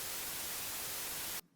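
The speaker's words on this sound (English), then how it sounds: "Listen to white noise." Loud, steady white noise with an even hiss across the whole range, cutting off abruptly near the end into near silence.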